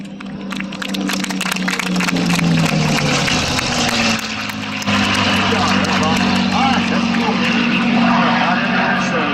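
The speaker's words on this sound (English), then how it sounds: "Gets a full-blown demonstration of the P-51." A P-51 Mustang roars through an airshow demonstration pass, its piston engine droning loud and steady with a pitch shift as it passes, a crowd murmuring faintly beneath.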